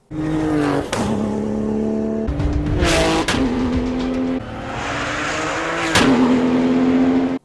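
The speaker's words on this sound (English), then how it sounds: "you get a full-on gunshot sound and proper race car fire with every gear change" A BMW M3 GTR-style race car revs hard through its gears, and its exhaust backfires with a sharp, gunshot-like crack at each of about four gear changes. The engine howl is loud and close, with no talk.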